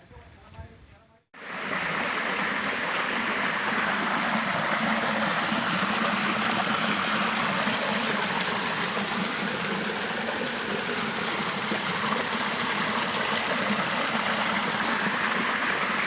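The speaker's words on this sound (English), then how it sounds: "It's a beautiful waterfall here, not marked on any of the map." A forest waterfall on a hiking trail in Brunei's Tasek Lama roars as a loud, steady broadband rush that begins abruptly and continues unbroken throughout.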